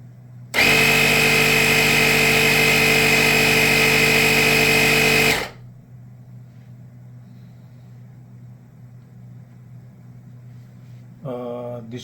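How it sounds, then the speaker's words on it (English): The air compressor built into a portable battery jump starter starts with a sudden loud whine and a buzzing drone, runs steadily for about five seconds, then stops, leaving a low hum, and a brief second burst comes near the end. "We try to operate the compressor."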